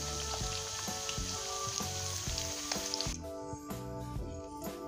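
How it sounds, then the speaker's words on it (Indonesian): Beef for green-chili dendeng sizzles in a pan with a steady hiss while faint background music plays, the frying easing off near the end. "hanya sekedar kita goreng aja agar dia ada gurihnya gitu"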